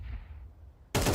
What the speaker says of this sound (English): Craze kills Grizzly as well in a 1v3.